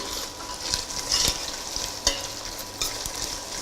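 Onion frying in a pan with turmeric powder, ginger and garlic makes a continuous close sizzle, broken by several stirring scrapes and taps of a spoon and with no talking.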